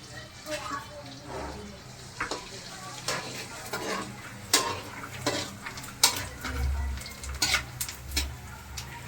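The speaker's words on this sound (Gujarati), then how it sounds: "આપણે ગુંદર તળી લઈએ પેલા તો" Edible gum frying in ghee in a pan on a gas stove, for Gujarati adadiya: a soft sizzle runs under irregular scraping and clinking from stirring against the pan, all heard close.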